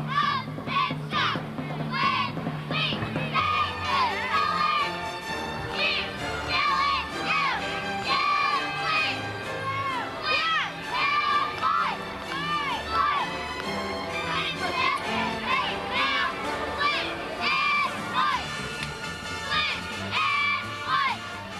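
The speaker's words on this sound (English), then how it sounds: "Now let's be quiet here because I let them get a cheer in." A large crowd at a high school football game in 2000 cheers and shouts steadily and loudly throughout, with dense overlapping yells and whoops.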